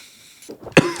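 A single short, close cough from someone who swallowed something down the wrong way while tasting wine, a sharp burst at the end of a brief breathy lead-in.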